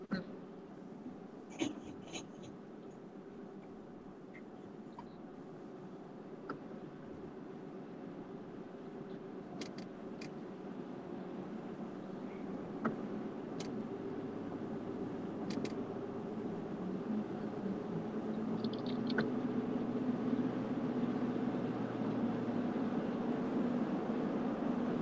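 Inside a pickup truck while driving, a low steady road and engine rumble grows gradually louder, with faint scattered clicks and rattles, quiet overall and without talk.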